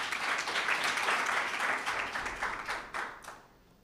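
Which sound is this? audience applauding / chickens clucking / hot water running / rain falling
audience applauding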